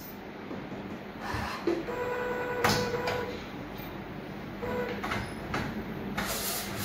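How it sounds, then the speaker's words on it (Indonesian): A DTG printer test printing without ink, its print head carriage sliding back and forth with a steady hiss and mechanical whirring, punctuated by a few clunks and brief motor tones. "printer bekerja dengan normal dan melakukan print dengan normal tanpa tinta"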